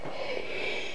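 A single short, breathy sneeze, close and fairly soft, standing alone without talk.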